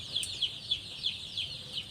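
Chickens cluck in short, soft, repeated calls at a steady pace during vaccination, faint against a quiet farmyard background.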